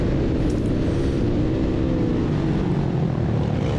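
Small-displacement mini moto racing motorcycle engines at a race series round at Horse Adams Racing Center, a steady dense buzzing drone with a slowly rising pitch, loud and continuous with no talk.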